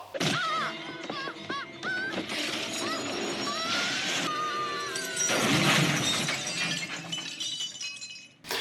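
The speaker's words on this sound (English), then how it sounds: "You know, she totally would have survived smashing into that car if she were Batman." A loud crash of shattering glass and a heavy impact as a person falls from a window onto a car in the horror film Child's Play, with breaking debris and voices mixed through the scene.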